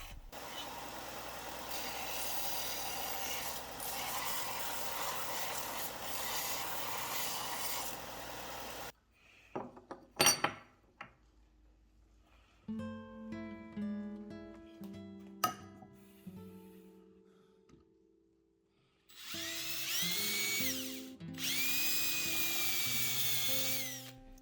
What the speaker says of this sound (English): I grind down the sharp corners of each plate